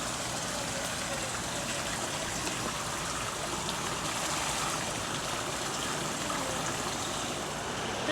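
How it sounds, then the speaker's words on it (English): Water trickles steadily in a garden nursery's pond water feature, a continuous even splashing that holds at the same level throughout. "they have this really lovely pond area, water feature area"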